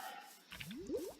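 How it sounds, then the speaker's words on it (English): Bubbling water effect in the Minecraft Infitech 2 modpack, a short soft gurgle of a few rising bubbly pops, faint and heard on its own. "Something make a bubbling sound."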